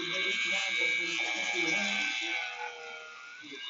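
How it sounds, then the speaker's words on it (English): A Dremel rotary tool set to a low speed of about 200 RPM, used to smooth a dull gray gun trigger part, gives a steady high buzzing whine that fades slightly toward the end. "Take your little Dremel. I like to put it on like 200 RPM just to start it out."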